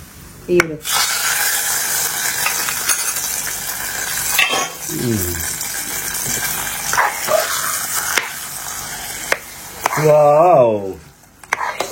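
Cashews and raisins fry in a pan with a continuous sizzle, broken by spoon scrapes and metal clinks as they are stirred, while voices talk over the cooking.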